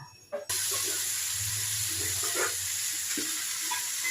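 Radish pieces hit hot mustard oil in a frying pan, already tempered with mustard seeds and dried red chillies, bursting into a loud, steady sizzle that continues close and unbroken, with faint stirring clatter over it.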